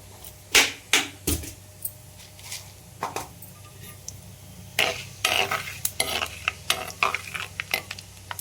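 Fenugreek seeds and cumin dropped into hot oil for fish curry, a few sharp initial pops then steady crackling sizzle with spoon scrapes against the pan, close up, no voices.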